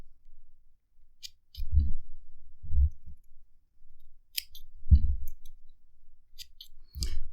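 Scissors snip vape coil cotton for an Eclipse RTA in several separate, close, soft cuts with sharp little clicks spaced between quiet pauses.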